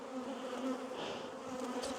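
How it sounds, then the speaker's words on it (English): A mass of honeybees buzzes steadily as they are dumped into a beehive during a spring hive inspection, a dense, continuous low drone heard close and fairly quiet, with no talk. "go ahead and dump them bees right there"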